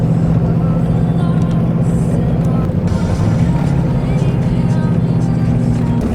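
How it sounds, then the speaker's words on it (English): A straight-piped Ford Power Stroke diesel engine in a pickup towing a heavy load on an icy road, a loud, deep, steady droning rumble heard up close from inside the cab, unbroken throughout. "Hopefully you guys can hear that badass power stroke. It's friggin' straight piped"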